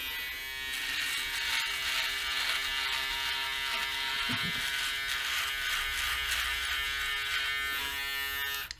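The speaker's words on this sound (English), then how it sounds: "So let's just go for it and start shaving." A Braun S3 electric shaver buzzes steadily and close up while shaving an average-thickness beard, a continuous droning hum lasting the whole clip with only slight changes in tone.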